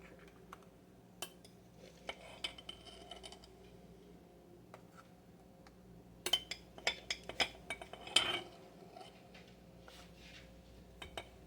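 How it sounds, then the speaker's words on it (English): A metal spoon reaching into a glass jar of powdered cheese sauce mix gives scattered clinks and taps, clustering into a busier run of light scraping and knocks near the end, close and fairly quiet. "because this is a powder mix, I'm going to use my spoon to reach down in my jar"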